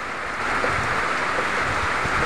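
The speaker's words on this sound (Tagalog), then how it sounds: "Ayan, laki ng alon mga kaonesa." Big waves break on a seashore, a steady, loud roaring wash of surf that fills the whole stretch without pause and with no voices.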